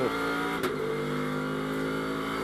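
Ferrari GT race car at Las Vegas Motor Speedway in a Blancpain GT World Challenge America race, braking and downshifting. A steady, loud engine tone runs throughout, with one sharp burst of a blip or gear change early on.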